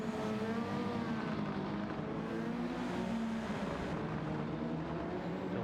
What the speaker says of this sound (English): you can just hear the engine tone of the BMW just in front of Salo there